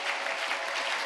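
A congregation applauding in church after a scripture reading, a dense, even burst of clapping filling the short moment.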